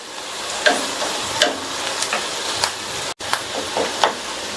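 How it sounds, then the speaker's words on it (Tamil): Onions and curry leaves sautéing in a pan for a potato gravy, a steady sizzle broken by several sharp scraping stirs of a spoon, close and fairly loud, with no talking. "வெங்காயம் வதங்கிட்டு இருக்கும்போது அது கூட கொஞ்சமா கறிவேப்பிலையும் சேர்த்து வதக்கிக்கலாம்."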